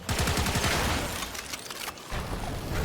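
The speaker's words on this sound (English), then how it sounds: "this is the hazard SMG I was talking about, just like the little kit gun I've got. It goes pew pew pew" Hazard kit gun SMG firing in the Warframe video game: a dense, continuous burst of rapid synthetic gunfire that stays loud for nearly three seconds, with one brief dip in the middle.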